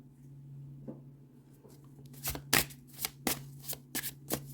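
Oracle card deck being shuffled at close range: soft slides and taps at first, then a run of crisp riffling bursts in quick succession.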